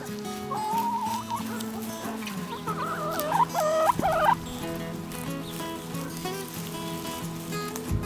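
Chickens on a desert farm cluck and gobble close by, a few short bursts of calls over a steady low background hum.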